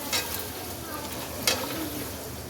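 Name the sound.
frying kofta with yogurt in a pan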